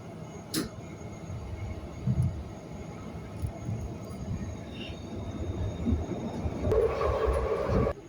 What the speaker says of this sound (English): That train is very quiet too.